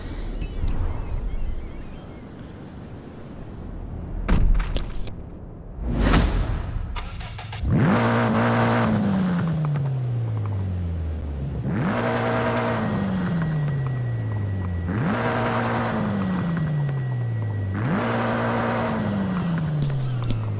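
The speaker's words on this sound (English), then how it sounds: "it's got a decent amount of throatiness to it, considering it's only an inline 4" After a few loud thumps, a four-cylinder car engine revs repeatedly, each rise in pitch falling back in a regular pattern of about four throaty bursts.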